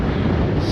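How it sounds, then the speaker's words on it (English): Wind buffets the microphone out on the open Laich March in Scotland, a loud continuous low rumble with no voices. "It's quite windy here"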